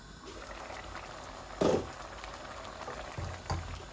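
Radish with rohu and tilapia fish curry simmers in a pot, giving a quiet low bubbling with a few sharper pops and splutters rising above the soft steady background.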